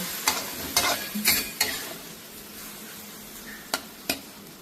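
Thai holy basil chicken (pad krapao) gets stirred in a pan. A spatula scrapes and clatters in a handful of sharp strokes over a faint background sizzle, with a pause before two final scrapes.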